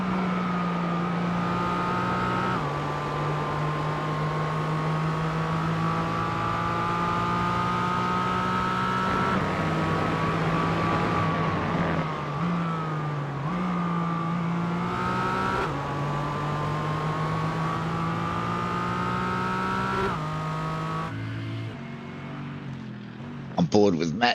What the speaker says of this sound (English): Big, deep, throaty rumble of the Merc.